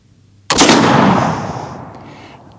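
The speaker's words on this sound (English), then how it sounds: "Let's shoot it a little bit lower this time. Put a hole through it, maybe." A single loud gunshot, fired with a Schuetzen powder load at a steel plate, cracks sharply at about half a second and leaves a long booming decay and ringing tail over the rest of the clip. No one speaks.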